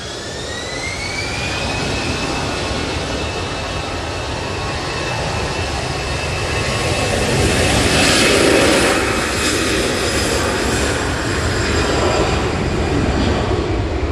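A TUI airliner comes in to land through a storm at Manchester Airport, a steady loud jet roar with rising engine whine, swelling briefly near the middle amid gusty wind, no talk.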